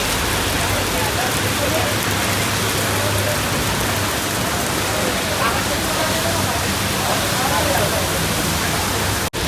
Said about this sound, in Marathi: पाऊस अजून काही थांबला नाही